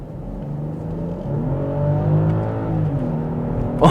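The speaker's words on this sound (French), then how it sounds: "on a un vrai moteur et il sonne bien et il est juste exceptionnel" BMW X5 45e plug-in hybrid's six-cylinder engine revving steadily, its rising and falling harmonic tone building in loudness over several seconds with a sharp burst at the end, no voices.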